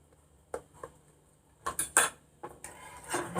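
A spoon stirs a garlic cream sauce for white-sauce pasta in a pan, making close scraping strokes and metallic clinks in quick uneven bursts against a low kitchen hiss.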